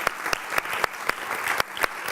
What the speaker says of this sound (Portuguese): Um grande aplauso para Manuel e obrigada pela coragem.